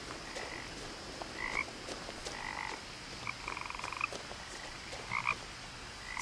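Frogs croak in the video game What Remains of Edith Finch, several short chirping croaks scattered over a steady outdoor ambient bed, some rapid and clustered, heard alone without talk.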